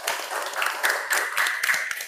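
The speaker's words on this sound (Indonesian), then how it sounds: "Tepuk tangan untuk kelompok 2." A classroom of students claps for a student group after its presentation in an Islamic history lesson, a brief scattered burst of hand claps heard close and moderately loud.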